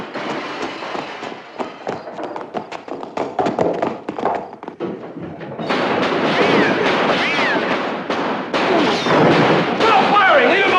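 Rapid bursts of gunfire from several guns, sharp cracks clustered and overlapping, loud and close, with shouting voices over the shooting in a tense sci-fi scene.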